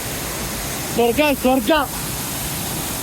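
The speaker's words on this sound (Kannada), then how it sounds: "ಅದೇ ಫಾಲ್ಸ್ ವ್ಯೂ ಇದು" Steady broadband roar of a waterfall at Kotte Betta in Coorg, constant throughout with a voice speaking briefly over it.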